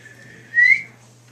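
A single rising whistle, a person calling children in for supper, rings out clearly for about a quarter second over a low steady hum, with quiet before and after.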